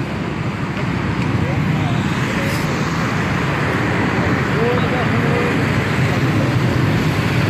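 Road traffic flows steadily near Gujar Khan, a continuous rumble of passing cars and buses that stays loud and close for the whole stretch, with faint voices underneath.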